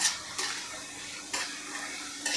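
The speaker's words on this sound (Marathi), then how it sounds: "बघा खमंग असं हे आपण भाजून घेणार आहे" Ingredients for a Marwari-style garlic chutney roast in a pan with a soft continuous sizzle, broken by three sharp scraping strokes of a stirring spoon at a close distance.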